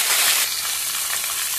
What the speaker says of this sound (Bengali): নুন দিয়ে ভাজবো, হলুদ দেবো না।